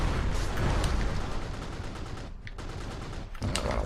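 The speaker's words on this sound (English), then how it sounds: "But if I just keep firing here, they should go down." In the video game Mechassault, a mech fires its weapons at destructible buildings, producing dense, continuous rapid gunfire with rumbling impacts. A few short gaps break the barrage near the end.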